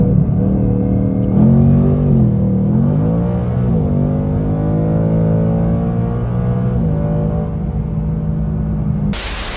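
A 2024 Mustang GT accelerates in second gear, its engine rumbling loud and steady with rising, falling harmonics as it pulls, no talk over it, ending in a brief burst of hiss.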